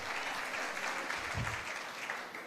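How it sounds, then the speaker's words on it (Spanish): Applause from a church congregation, a steady dense wash of clapping that fills the space and continues throughout, moderately distant with no voices standing out. "si va a aplaudir a Dios, dele con ganas"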